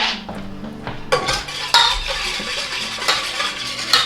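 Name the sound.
whisking ingredients in a bowl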